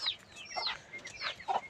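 Chickens on a farm cluck in short, rising calls, several in a row, fairly near and quiet, with no talking.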